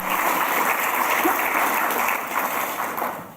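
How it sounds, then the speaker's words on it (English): Audience applause at an awards ceremony honoring work against sex trafficking, a steady wash of many hands clapping, moderately loud throughout the short stretch with no speech over it. "just one round of applause for our honorees and our presenters here today"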